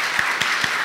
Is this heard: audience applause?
yes